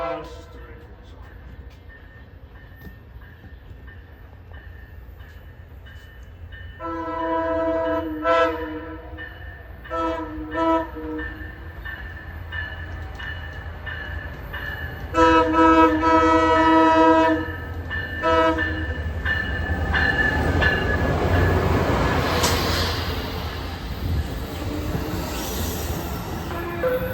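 A freight train passes trackside in Simi Valley, California, its horn sounding in several long blasts and short bursts over a steady rumble of rolling cars that swells louder as it draws near.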